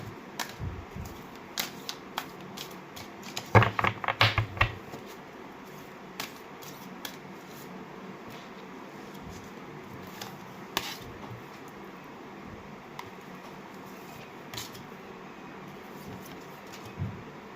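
Tarot cards drawn from a deck, with soft flicks and a brief burst of shuffling clicks near the start, then quiet scattered card taps, close and without talk.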